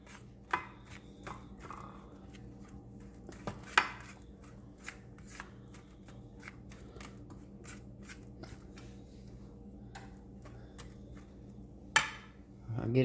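Lemon bar mix pressed into a baking pan, giving scattered soft taps and scraping knocks with a few sharper clacks, close and fairly quiet, without talk.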